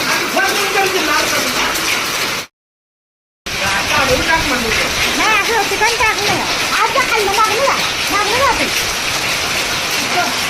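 Hard, steady pelting of unseasonal hail drumming on vehicles, including a new one, dense and loud throughout, with excited voices talking over it and a brief dropout early on.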